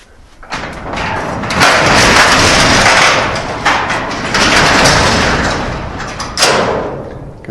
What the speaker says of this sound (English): Let's get the door shut.